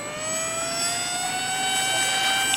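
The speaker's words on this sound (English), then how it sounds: "I seldom fly RC airplanes while I sit." A radio-controlled model airplane flies overhead, its engine giving a steady, high-pitched whine that drifts slightly in pitch as it passes, with no talk.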